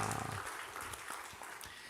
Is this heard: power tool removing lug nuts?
no